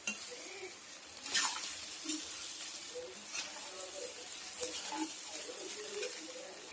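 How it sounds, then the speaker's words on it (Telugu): Cooked rice being mixed into a seasoning in a pot for pulihora, with soft scraping and clinking of a spoon against the pot in irregular strokes, fairly quiet and close. "ఇది మొత్తం అయితే కలుపుకుందామండి ఒక్కసారి."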